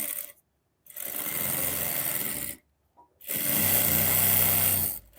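A sewing machine stitches buckram onto kameez fabric in two steady, rapid bursts of needle clatter with a pause between them. The sound is close and has no talking over it.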